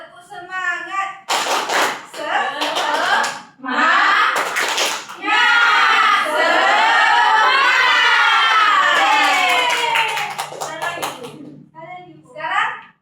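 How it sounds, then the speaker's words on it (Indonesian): A class of schoolchildren performs a spirited clapping chant: clusters of loud, rhythmic claps and thumps mixed with energetic group chanting and shouting, close and lively, with a teacher's voice at the start and end. "Tepuk semangat."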